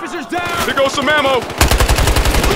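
Machine gun fire in Battlefield Hardline, a rapid loud burst of automatic shots near the end, with steady rhythmic mechanical noise and voices before it.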